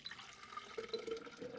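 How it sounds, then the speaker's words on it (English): Film developer pours out of a developing tank, splashing steadily for a moment, a soft trickling gush with a few brighter gurgles, close by and fairly quiet. "So now we start pouring the developer away"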